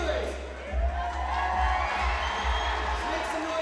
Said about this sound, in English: Sounds like the crowd favors Avery.